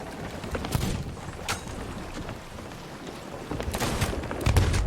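Pistol gunfire in the pirate video game Sea of Thieves, with several sharp shots spaced across the stretch over a steady, busy game soundscape.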